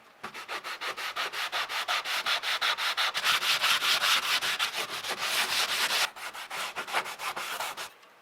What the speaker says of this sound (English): let's see how the sandpaper works on this corroded piece here.